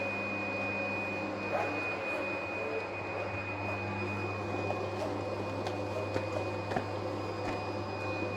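A PFI Blade B2+ digital cutting table runs a creasing and cutting job with a steady mechanical hum and a constant high whine, broken by a few faint ticks and clicks, continuous and moderately quiet.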